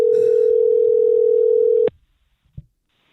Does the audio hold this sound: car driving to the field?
no